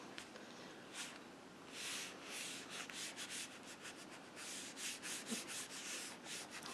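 A paper card is rubbed by hand to warm the glue while making a gold star card, giving soft, close, irregular brushing strokes at low volume.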